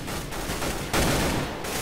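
Gunfire in the video game Counter-Strike GO, a loud, dense burst of shots that swells sharply partway through, heard close and alone.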